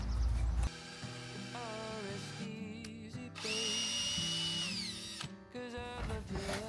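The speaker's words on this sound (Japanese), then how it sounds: "こうドリル打つの難しいね。" A power drill whirs in short bursts while driving into a DIY wooden bed frame, its motor pitch rising and falling as the trigger is squeezed and released, loud and close, with brief pauses between runs.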